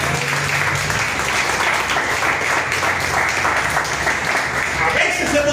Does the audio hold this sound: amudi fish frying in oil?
no